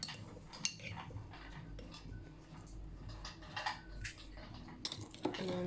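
A metal spoon clinks and scrapes against a bowl as sesame and sunflower seeds are scooped in, several small close knocks and rattles over a low steady room hum, with no talking.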